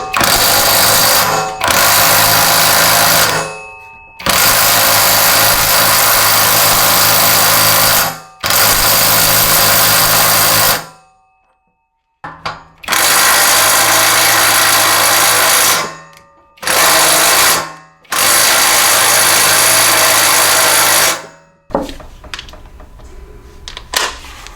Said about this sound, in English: You'll probably need a 1/2 inch impact.